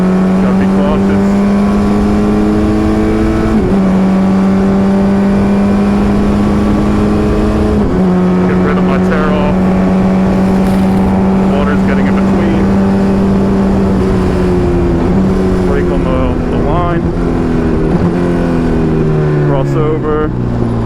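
Race car engine pulling hard on a wet, slippery track at Summit Point Raceway, loud and close as it revs up through the gears with clear shift drops, a driver talking over it throughout.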